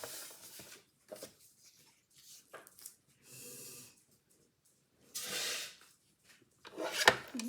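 Scrapbook album paper being cut, heard as several short, quiet rasping strokes separated by pauses, close to the microphone in a quiet room.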